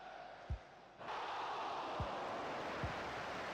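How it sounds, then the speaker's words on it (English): Stadium crowd noise in the Dreamcast football game European Super League, a steady broadband roar that swells after a second, with a few low dull thumps beneath it. "The crowd noise is pretty decent"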